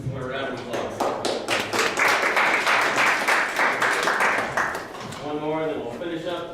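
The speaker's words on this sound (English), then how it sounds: "A round of applause." A workshop audience breaks into applause, a patter of many hands building to a dense burst for a few seconds, then fading as a voice returns over the last claps.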